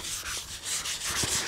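Black guide coat powder is wiped by hand over a sanded car body panel, giving a steady, close, soft rubbing hiss with gentle back-and-forth strokes and no voices.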